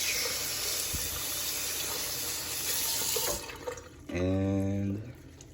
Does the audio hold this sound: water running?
yes